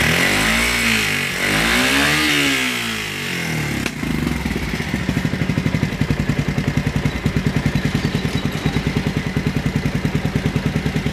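A motorcycle engine fires up and revs in rising and falling bursts, then settles into a steady, rapid idle putter that runs on close by with no talking.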